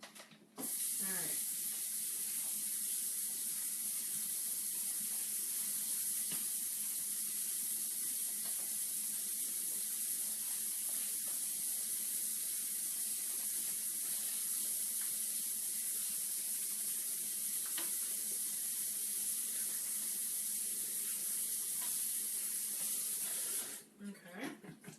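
Tap water runs steadily into a sink to rinse potatoes, a continuous hissing splash heard close for almost the whole stretch, and it cuts off near the end.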